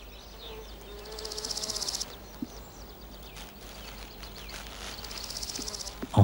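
Social wasps buzz in close, loud swelling bursts over a steady background drone of insects, with quieter stretches between the bursts.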